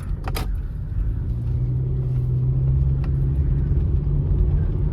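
A 2003 Toyota Camry with 250,000 miles drives along, its steady low engine and road rumble filling the cabin, with a brief knock or click near the start.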